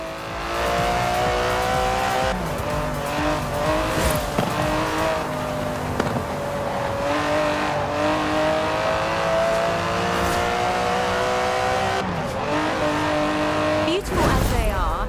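Aston Martin DB11 driven in the racing video game Forza Horizon 4, engine note holding steady and shifting pitch with accelerations and tire squeal, loud and continuous throughout, with a voice talking over it.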